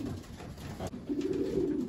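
Racing pigeons coo in a loft, giving close, loud, throaty rolling coos with a brief pause between two calls and no talking.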